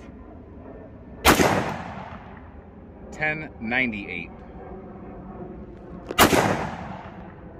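Two loud, sharp 10mm gunshots from an XDM Elite 4.5" OSP pistol about five seconds apart, each with a ringing tail; a voice speaks briefly between them.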